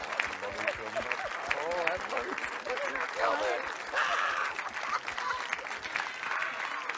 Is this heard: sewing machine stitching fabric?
no